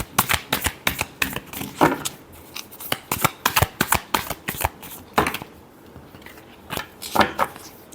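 Tarot cards are shuffled in quick rapid bursts of riffling and slapping, close and fairly loud, with short pauses between the runs and no talking.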